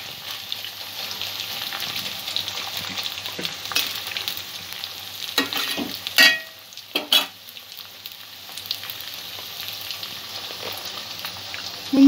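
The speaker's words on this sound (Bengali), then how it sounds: "এটা যতক্ষণ না ডিপ ফ্রাই হচ্ছে নুডলসগুলো" Noodles deep fry in oil over a medium flame, giving a steady close-up sizzle that swells briefly as they are stirred.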